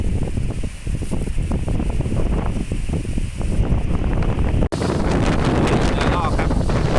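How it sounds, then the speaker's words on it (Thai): Strong wind gusting through a garden, loud and continuous with heavy buffeting on the microphone throughout, briefly cutting out before roaring on again. "มาดูลมที่สวนลมแรงมาก"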